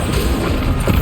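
A Bombarda blasting spell in Hogwarts Legacy bursts in a loud, low, booming rumble that fills the whole second, close and heavy with no clear pause.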